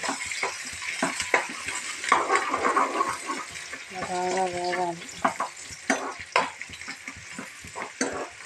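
Onion and green chillies fry in a pan with a crackling sizzle, punctuated by frequent sharp stirring clicks and a brief humming tone midway.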